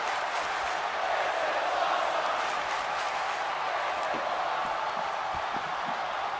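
Steady roaring arena crowd noise in a WWE 2K wrestling game, a broad sustained cheer at moderate level with faint scattered claps beneath it.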